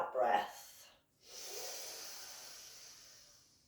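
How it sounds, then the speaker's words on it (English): Slow, deep breathing through the nose during a guided relaxation session: a close, soft airy inhale, a brief pause, then a long gentle exhale fading out. "breathing in and out through the nose"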